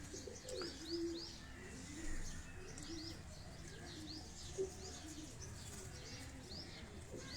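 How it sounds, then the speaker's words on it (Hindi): Soft cooing and chirps from Teddy breed pigeons on a Karachi rooftop drift through a faint background hum, a few brief calls rising at scattered moments. "ये टैडी ब्रीड का कबूतर है, ये देखें आप।"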